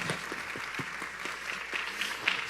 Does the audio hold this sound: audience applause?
yes